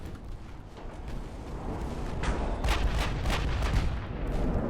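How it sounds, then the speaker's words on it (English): Big naval guns on warships in Ultimate Admiral Dreadnoughts fire in a cluster of heavy, booming blasts that build over a low rumbling battle bed. "Jesus, these big guns, man."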